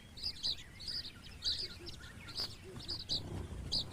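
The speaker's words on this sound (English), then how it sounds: "Tiny finches like the red-cheeked cordon bleu are almost as common as sparrows." Tiny finches such as the red-cheeked cordon bleu chirp at a bird table, giving repeated high, thin tweets in short bursts, fairly faint, over soft background rustling.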